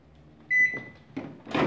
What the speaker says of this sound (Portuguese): Vou conectar nosso micro-ondas aqui mais uma vez.